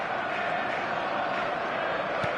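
A stadium crowd in the football video game eFootball roars with a steady, dense wash of cheering that holds at an even level from start to finish, with no breaks or separate peaks.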